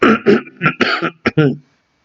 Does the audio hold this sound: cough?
yes